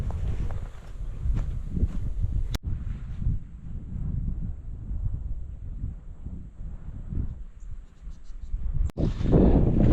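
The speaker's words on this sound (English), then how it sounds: "So it's a little bit windy down here, but that's expected." Wind gusts across a lake shore campground, a low, rumbling buffet of air against the microphone with faint rustling and a couple of sharp clicks, no talking.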